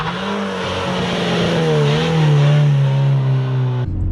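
A manual car pulls away after the clutch is let out, its engine note climbing steadily and loudly close by for a few seconds before cutting off abruptly.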